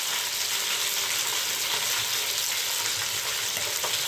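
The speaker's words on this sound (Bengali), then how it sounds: "আর ওদিকে আমার মাথাটা ভাজা হচ্ছে" A large katla fish head, from a fish of about five kilograms, fries in hot oil in a pan, giving a steady, loud, continuous sizzle with no pauses.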